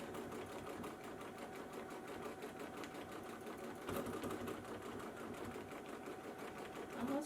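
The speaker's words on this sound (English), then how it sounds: "Get some stitching in the ditch right there." A sewing machine stitches a quilt in rapid continuous bursts of needle clatter, close and fairly quiet, with a brief sharp knock midway and no voices.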